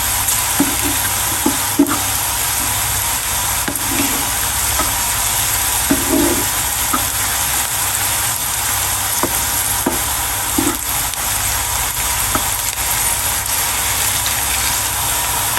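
Okra (bhindi) sizzles steadily while being stir-fried in a pan, with a constant frying hiss and occasional soft scrapes and knocks from stirring.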